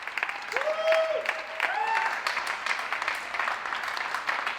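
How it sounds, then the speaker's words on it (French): Neighbours applaud front-line workers at 8 pm from around the street, a broad wash of distant clapping and some cheering that runs steadily throughout, with a few whistle-like tones and voices scattered near the start. "Quand il est 20h et que tout le monde applaudit et félicite tous ceux qui sont en première ligne dans cette crise"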